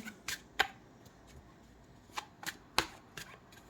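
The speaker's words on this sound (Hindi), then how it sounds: "एक और कार्ड निकालते हैं" Tarot cards are handled as one is drawn from the deck, with several sharp crisp snaps and flicks of card stock scattered irregularly through an otherwise quiet room.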